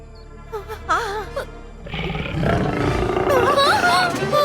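A tiger gives a deep, drawn-out roar that grows and stays loud to the end, after brief wailing, warbling calls.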